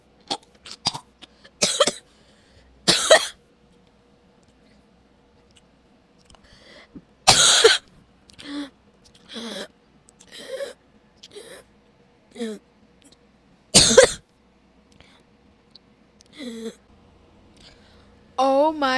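A coughing fit: a string of sharp, separate coughs and throat-clearing bursts with short quiet gaps between them, close and fairly loud, some with a raspy voiced tail.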